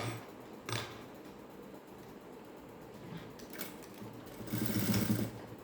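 A sewing machine stitches a cigarette-style pant pocket, humming with a steady mechanical run and then a louder, faster burst of stitching toward the end, close and without talk.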